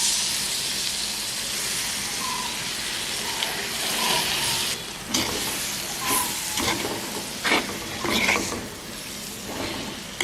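Lime juice poured over curry chillies frying in a pan, a steady hiss and sizzle with scattered crackles and scraping stirs, close and continuous.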